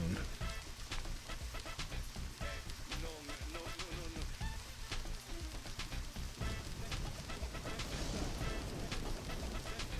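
Steady rain in the Deadly Premonition video game hisses continuously across the whole stretch, with scattered drop-like ticks and faint game sounds mixed in, without any clear voice over it.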